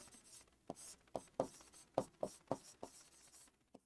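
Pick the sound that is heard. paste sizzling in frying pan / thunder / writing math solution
writing math solution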